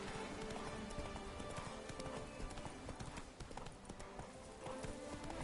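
Roach the horse's hooves clip-clop in a steady running rhythm through The Witcher 3: Blood and Wine, loud and continuous across the whole stretch with game sounds layered around them and no talk.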